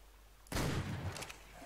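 A single loud, booming blast from a cluster high-explosive shotgun round in the game ARK, with a rumbling tail and a couple of crackling bursts afterward.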